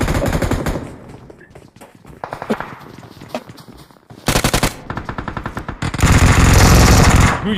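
Rapid automatic gunfire from a BGMI battle royale match, with bursts of loud shots separated by brief quieter gaps, ending in a sustained heavy volley.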